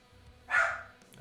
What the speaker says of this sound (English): Okay, the dogs are barking.